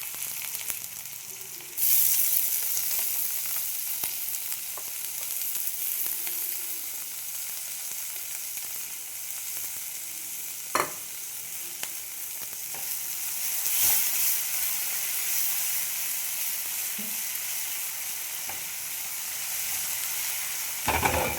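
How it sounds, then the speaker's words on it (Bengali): Chopped onions frying in hot oil with spices in a pan, a loud, steady sizzle that swells after the first seconds and carries on with a few brief clinks of stirring, no voices. "পেঁয়াজটা আমি ভেজে নেব লাল করে"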